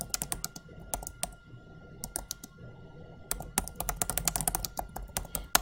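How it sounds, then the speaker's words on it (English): Fast typing on a computer keyboard while editing text in Publisher: dense bursts of crisp, close key clicks broken by short pauses, steady and fairly loud, with no one speaking. "I can simply type over this and change the text to whatever I want to say"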